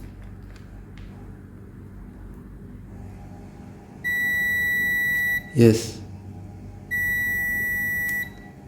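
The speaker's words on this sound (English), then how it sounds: "we have a beep from here to here" Two steady electronic multimeter continuity beeps on a portable travel iron, each held over a second, separated by a brief rustling bump; a voice speaks briefly in between against faint background hum.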